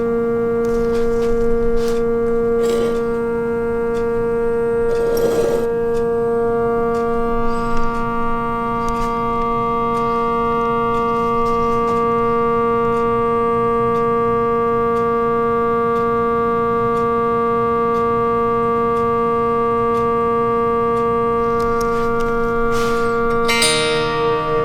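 Steady, sustained tones from electromagnetically sustained guitar strings on a harp ring on at a constant pitch like a held organ chord, droning for the whole stretch with a few faint clicks and a rustle near the end.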